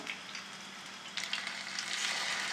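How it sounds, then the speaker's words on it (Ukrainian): Meat fries in a pan with a steady close sizzle that grows a little louder and crackles near the end, and no talking. "М'ясо вже готове, тільки нам потрібно обсмажити гарненько."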